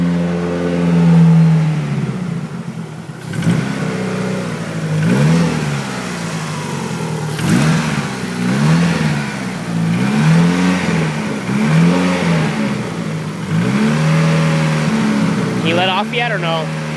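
A 1998 Dodge Neon engine, just restarted after work, runs close by and revs in a steady series of rising and falling surges over a continuous idle, with a person talking over it throughout.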